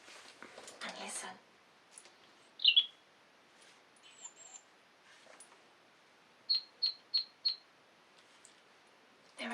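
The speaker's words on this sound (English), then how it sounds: "There are lots of birds out there busy making their nests." Birds calling outside a window, faint and sparse: a brief double chirp, then a quick run of four sharp high chirps, with soft rustling between and quiet surroundings.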